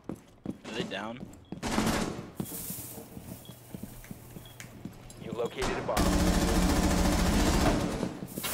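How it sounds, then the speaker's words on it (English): Shotgun blasts and gunfire in a Rainbow Six Siege match, sharp broadband bursts mixed with footstep-like clatter and game voices, ending in a loud sustained roar of fire. "Shotgun."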